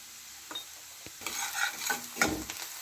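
Spring onion curry with turmeric and chili powder being stirred in a pan, several scraping strokes and spoon knocks over a soft sizzle, close and uneven in rhythm, no talking.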